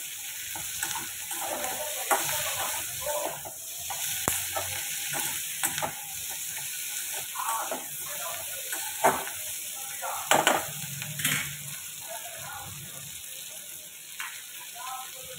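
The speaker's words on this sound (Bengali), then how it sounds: "আলুগুলো পেঁয়াজের সাথে সুন্দর করে ভাজা করে দেব।" Sliced potatoes and onions sizzle in oil in a pan while a utensil scrapes and stirs them, producing uneven clatters and knocks over a continuous frying hiss.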